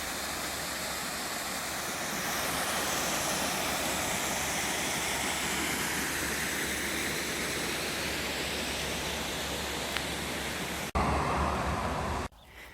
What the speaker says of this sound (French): Et je pense que ça va déboucher vers une petite cascade.